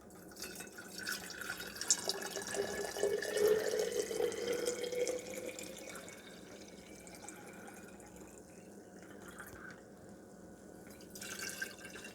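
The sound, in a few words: water pouring into glass jars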